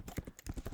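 Quick bursts of keystrokes on a computer keyboard while entering a MongoDB aggregate command, close and fairly soft, in an uneven rhythm of about six or seven clacks.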